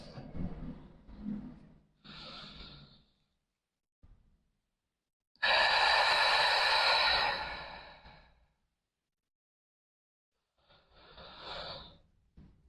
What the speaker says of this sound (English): I always start with the deep breathing aspect first to kind of get myself warmed up.